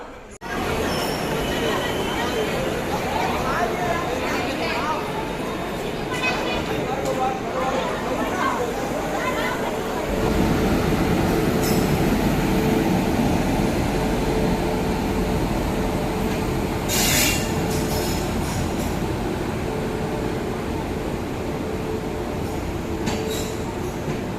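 Hemkunt Express train at Haridwar railway station: a steady, loud rumble of rolling rail wagons that swells partway through, with occasional metallic squeals and hiss and a voice speaking over it.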